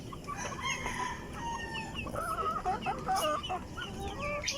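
Free-range heritage chickens cluck and call in a farmyard, several birds overlapping at moderate distance over a steady outdoor background, with no talk.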